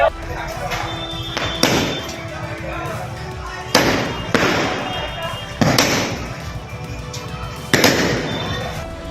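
Loud fireworks go off on a street during a celebration with drums, in several separate bursts, each a sharp bang trailing into crackle, with crowd noise between them.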